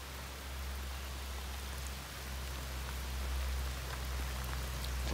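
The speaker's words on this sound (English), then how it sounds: "Rainy day, rainy day, rainy day." Rain falls on a farm, making a steady, dense hiss of drops on surfaces, with a low rumble beneath and no talking.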